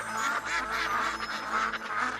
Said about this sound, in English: Ducks can swim, ducks can fly, and ducks can walk on land.